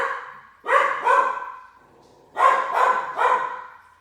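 A small dog barks in two bursts of quick, sharp yaps, fairly close and loud, with a short pause between the bursts and no talking over it.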